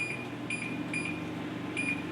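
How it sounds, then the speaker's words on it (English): A kitchen oven timer, set while baking sourdough rounds, gives several short, bright electronic beeps at an uneven pace over a steady background hum. "we'll just set the timer for 3 more minutes."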